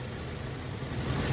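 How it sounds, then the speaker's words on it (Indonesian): A Toyota Kijang Innova's 2.0-litre four-cylinder, rear-wheel-drive engine idling with a steady, low, even hum, close by, heard alone without talk. "untuk memeriksa kondisi mesin masih bagus, kita bisa pertama kita dengarkan ritme suaranya"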